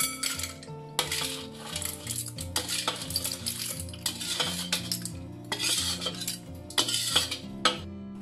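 Surf clams stir-fried with shrimp and chives in black pepper, with repeated metal spatula clanks and scrapes against the pan in an uneven rhythm over a low sizzle, close by, no talking.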